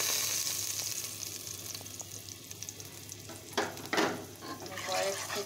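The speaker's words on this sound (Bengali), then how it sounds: "আমি কয়েক সেকেন্ড ভেজে নেব জাস্ট, যতক্ষণ না সুন্দর একটা ফ্লেভার আসে ততক্ষণ।" Ground spices fry in hot oil with whole cumin, giving a soft, low sizzle with light clinks and a couple of louder stirring scrapes toward the end.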